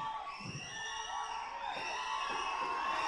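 Crowd at a Tamil film audio launch cheering and whooping, a sustained wash of shouts and yells that builds slightly louder toward the end, heard from within the audience.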